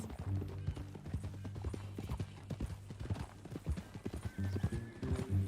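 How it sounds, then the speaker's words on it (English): Horse hooves clip-clop in Red Dead Redemption 2 in a steady, close walking rhythm. A low droning tone runs underneath, and there is a brief snort or whinny. "That new horse?"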